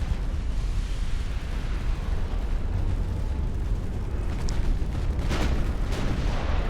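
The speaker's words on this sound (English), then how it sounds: "One of our underwater torpedoes detonated." An underwater torpedo detonates in Ultimate Admiral: Dreadnoughts, an 1890-era naval battle, as a heavy, roaring rumble under constant sea and engine noise, swelling briefly near the end.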